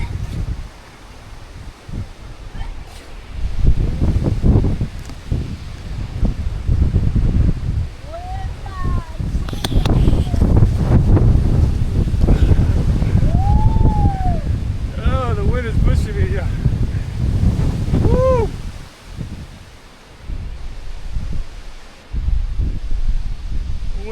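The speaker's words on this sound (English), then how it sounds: "Wow, that wind is blowing. It's so windy out here." Strong wind roars and buffets the microphone at the edge of a mountain on a rock-climbing trail, surging in loud gusts over a long stretch, with a person speaking now and then.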